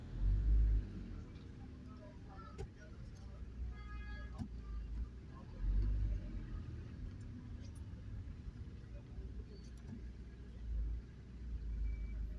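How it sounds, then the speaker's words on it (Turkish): Low rumbling road traffic on a main street in Zonguldak, Turkey, with cars passing and engines idling nearby, occasional louder vehicle surges and faint background voices. "Zonguldak'ımızın en en ana caddesinde trafik her zamanki gibi haliyle zor akıyor."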